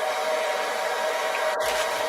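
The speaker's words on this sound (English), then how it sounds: "Sorry for the noise. I got the blow dryer going." A blow dryer runs in a steady, even hiss that fills the whole stretch, close and constant, with a brief faint click near the end.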